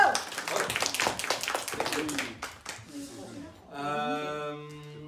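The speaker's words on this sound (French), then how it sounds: "On applaudit l'idée." Children in a classroom give quick applause for an idea, with brisk clapping over the first seconds that thins out before someone speaks near the end.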